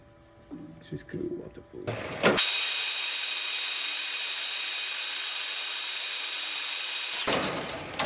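A metal lathe machines reference surfaces on a scratch-built engine part. After some brief clanks and handling noises, a steady whining cut holds evenly for about five seconds, then stops abruptly and the clatter returns.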